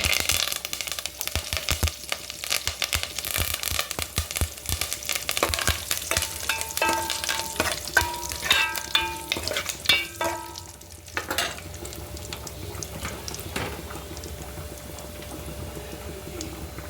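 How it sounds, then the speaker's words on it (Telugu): Curry leaves dropped into hot oil for a dal tempering crackle and spit densely in the first seconds, easing into a softer sizzle with occasional stirring scrapes. "ఇప్పుడు కరివేపాకు వేసుకుంటాం"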